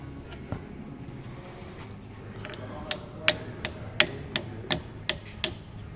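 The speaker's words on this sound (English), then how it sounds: "now you just tap this around with a hammer." A hammer taps a metal car part on a Nissan Sentra about eight times in a fairly even rhythm, sharp and close, over a low background rumble.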